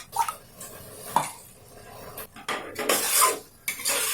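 Spices stirred in a pan for chhole masala: a metal spoon clinks and scrapes against the pan in uneven strokes, close and moderately loud, with a faint sizzle underneath.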